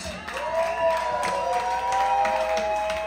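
Cheering, whistling and clapping from a live rock concert crowd at Tony V's, filling the room steadily for a few seconds with no break.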